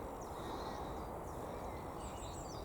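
Jackdaws calling from up high, a few faint, scattered caws over a constant background hiss outdoors.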